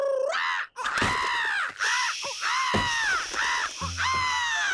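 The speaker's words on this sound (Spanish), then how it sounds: "¡Ah, es un ave!" A cartoon bird calling from outside lets out a run of harsh, crow-like caws, loud and close, several in quick succession with brief gaps between them.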